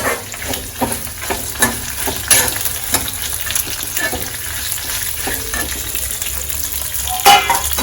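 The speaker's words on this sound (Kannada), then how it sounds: "ಮೆಣಸು ತುಂಬ ಫ್ರೈ ಮಾಡೋದು ಬೇಡ ಸ್ವಲ್ಪ ಘಮ ಬರೋ ಥರ ಫ್ರೈ ಮಾಡೋಣ" Pepper frying in a pan with fenugreek, a loud close sizzle with frequent spoon scrapes and clinks as it is stirred, continuous and without speech.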